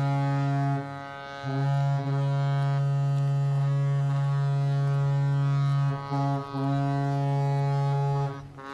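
Boat horns blaring at a skûtsje sailing race, long sustained tonal blasts overlapping in a loud chorus with brief gaps, no talking.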